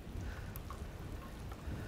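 Rain falls steadily outdoors during a whole chicken smoking cook, a faint, even wash of patter with no voices over it.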